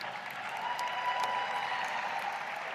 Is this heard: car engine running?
no